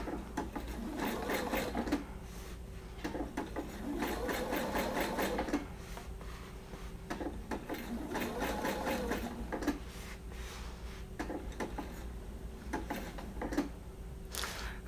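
A sewing machine stitches a Christmas pillow, running in several close, rapid bursts of mechanical whirring and ticking, with short pauses between runs.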